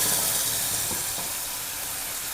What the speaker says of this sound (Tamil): அதில் இந்த எண்ணெயில் போட்டு லைட்டாக வதக்கிக்கோங்க